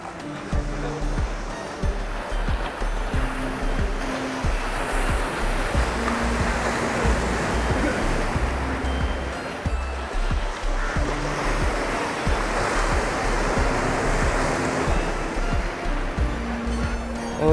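Sea waves roll onto a wide beach at Digha Mohana, a steady, broad wash of surf with some wind noise across the whole stretch and a faint murmur of people in the background.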